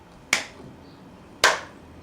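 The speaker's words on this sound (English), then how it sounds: "I'm clapping." Two sharp, isolated hand claps about a second apart, fairly quiet and close, with a faint hum between them in an otherwise quiet room.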